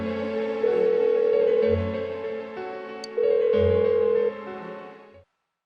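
Phone in Persona 4 Golden ringing on and on without an answer, a repeating electronic ring pattern with soft backing music, moderately loud and then stopping abruptly.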